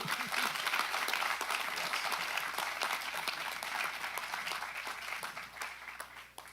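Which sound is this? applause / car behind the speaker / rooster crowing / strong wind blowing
applause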